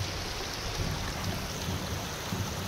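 Rain falls steadily in a forest park at Borivali, Sanjay Gandhi National Park, a dense, even hiss of drops with no pauses.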